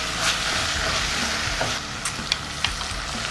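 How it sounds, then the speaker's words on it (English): Ground meat and smoked paprika spices toasting in a hot pan: a steady sizzle and fry, with a few short stirring scrapes near the end. "So now we just want to toast the spices, toss it in with the meat."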